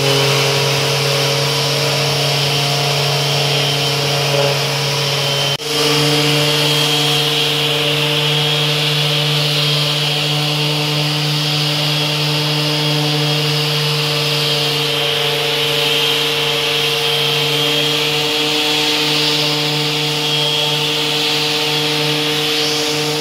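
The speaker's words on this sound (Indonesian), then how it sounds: "Jadi kita akan amplas sedikit ya. Jadi menggunakan amplas grade 40." A power sander runs steadily with 40-grit sandpaper over a floor surface being prepared for epoxy flakes, giving a loud, continuous motor hum and abrasive rasp. There is a brief dip around the middle, then the sanding carries on evenly.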